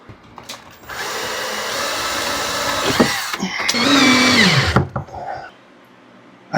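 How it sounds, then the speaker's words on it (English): A power drill whines continuously, rising and falling as it drives screws through trim into a cabin wall. The motor bogs down once near the end, then stops. "So we're going to screw this thing to the wall."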